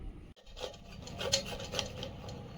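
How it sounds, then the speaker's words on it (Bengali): Garlic grated on a traditional hand grater, repeated close rasping rubs in a quick steady rhythm, alone without talk. "রসুনটা কোরনে কুড়ে নিচ্ছে"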